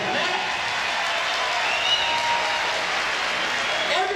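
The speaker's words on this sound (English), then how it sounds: "Give them another applause" Comedy show audience giving applause for the street team, a sustained, even wash of clapping from the crowd, moderately loud and unbroken, with faint voices underneath.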